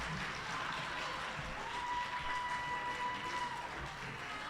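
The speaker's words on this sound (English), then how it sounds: "Berman crowd cheers for Mia." A crowd at a school tournament applauds and cheers for Mia, a faint, steady wash of clapping heard from a distance with no clear voices above it.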